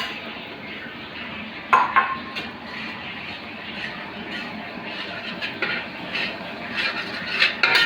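Semolina (rava) roasting in a pan while a spoon stirs and scrapes it, giving steady scratchy scraping with a few sharp metallic clinks against the pan, close up, with no talking.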